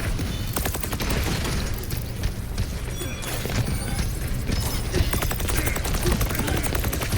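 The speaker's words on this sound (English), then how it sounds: "we gotta just be firing Thorn Volley down that lane" Lifeweaver's Thorn Volley firing in Overwatch on Circuit Royal, a dense, continuous stream of rapid dart shots, loud and close, with clattering game effects layered through the entire stretch.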